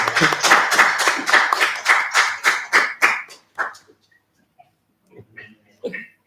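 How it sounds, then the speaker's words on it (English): Audience clapping for a heritage archaeology, paleontology and meteorites unit at an opening-day event: a dense burst of applause for about three seconds that thins to a few scattered claps and fades out. "please give a big round of applause to SAHRA's Archaeology, Paleontology, and Meteorites unit"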